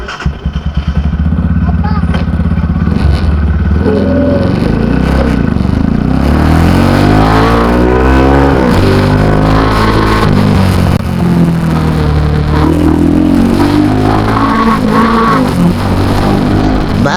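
A motorcycle engine revs hard and loud at close range, its pitch sweeping up and down repeatedly through throttle blips with a rough, raspy tone, sustained for the whole stretch.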